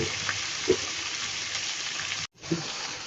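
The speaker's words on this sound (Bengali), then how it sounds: "এখন আলুটা একটু আমি কষিয়ে নেব" Potatoes sizzle in hot oil in a pan, a steady close hiss with a couple of soft knocks of stirring and a brief cut to silence midway.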